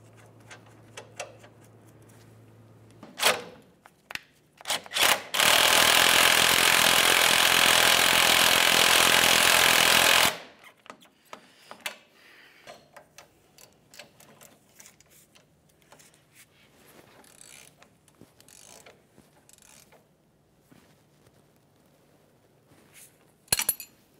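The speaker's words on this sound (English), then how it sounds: "Start the nut on there." Power tool tightening a nut onto a lower control arm ball joint on an early-2000s Chevrolet, a steady loud whirring burst of about five seconds, framed by scattered metallic clicks and workshop handling noises.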